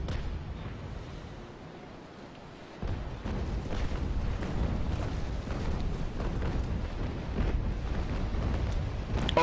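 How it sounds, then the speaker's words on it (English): Sailing-ship cannons fire during a naval battle in the Naval Action game, a steady rumbling barrage of loud, dense booms that swells after a brief lull and keeps rolling. "Oh good, he fired those cannons."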